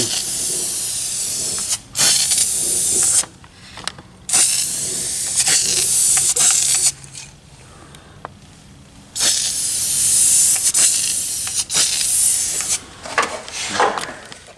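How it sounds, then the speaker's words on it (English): An aerosol can sprays in cold weather onto a car's underside in several long hissing bursts separated by short pauses, loud and close, with faint handling noise between. "It's cold, so it may not spray as good as I want it to"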